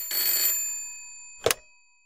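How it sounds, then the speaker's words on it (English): An old telephone bell rings in a single short burst, loud and clear, following a fading wash of higher-pitched sound, with no voices. "Later, he's delighted to answer the phone to Harold Evans."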